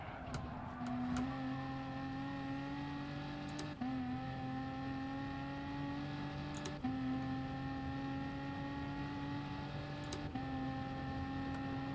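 BMW race car engine in Gran Turismo Sport at the Nürburgring 24h, a loud steady engine drone that holds high revs and briefly dips at each gear change, with no talking.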